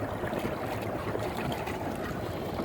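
A fishing boat idles on the Ohio River while a large cruiser's wake rolls past, a low steady motor rumble mixed with washing water and wave noise.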